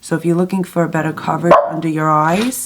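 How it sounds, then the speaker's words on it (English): A dog barks in short sharp bursts at close range, overlapping with someone talking steadily. "sorry, that's my dog."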